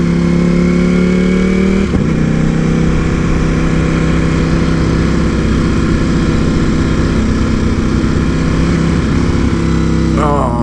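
A Ducati Panigale V4S motorcycle engine runs loud and continuous while being ridden, with shifting revs, a brief dip near two seconds and a rising rev at the end.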